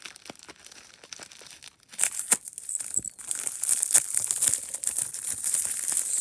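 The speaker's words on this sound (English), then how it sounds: "So this is the package it comes in. Let's get it open." A cardboard package holding a metal fidget toy is torn open, with soft crinkling at first and then a louder, sustained bout of tearing and crumpling close up and alone.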